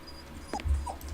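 A puppy whines in a Sherlock Holmes video game: two or three short, soft whimpers heard close up over a low background hum, with no speech.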